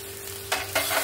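Chopped tomatoes dropped into hot spice masala for tomato rice, giving two bursts of close, loud sizzling frying noise against a quieter pan hiss, with no voices.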